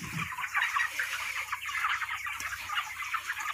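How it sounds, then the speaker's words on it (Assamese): Young farm chicks peeping and chirping continuously in a chorus, close and fairly loud with no talk over them. "দেখিছে আপোনালোকে ফাৰ্মৰ পোৱালিবোৰ।"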